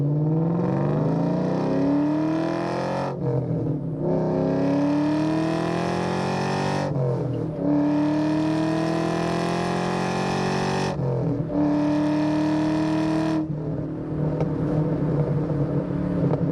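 A supercharged 4.6-litre 2003 Ford SVT Cobra convertible revs hard and climbs through several gears, each upshift marked by a brief dip before the loud whine rises again, close and continuous.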